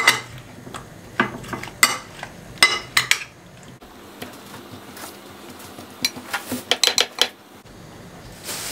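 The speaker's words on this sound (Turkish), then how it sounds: "Şimdi bunu güzelce karıştırıyorum." A breakfast mixture being stirred in a dish, with close, irregular spoon clinks and scrapes against the sides in quick bursts, pausing midway before resuming with sharper taps.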